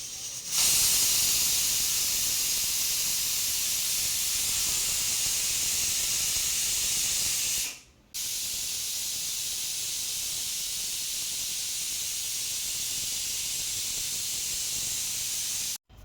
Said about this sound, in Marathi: इथे कुकरच्या दोन शिट्या झालेल्या आहे